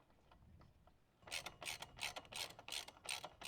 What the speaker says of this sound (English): Run your bolt in until you can feel it just coming through the back side.